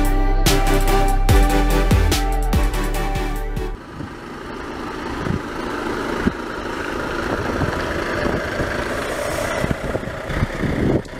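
A very long container truck runs its engine on a narrow, flood-damaged road in India, a steady mid-pitched drone with a few rhythmic knocks at first, then a rougher, noisier rumble that continues to the end.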